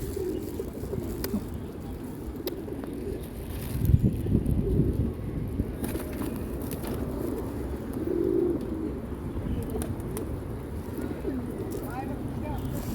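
Pigeons or doves cooing and calling while being fed in Tashkent, soft repeated coos at moderate distance over steady wind noise, with a voice speaking near the mic at times.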